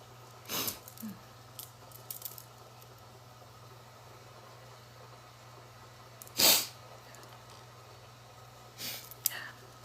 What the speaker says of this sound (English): Feels like I'm gonna sneeze.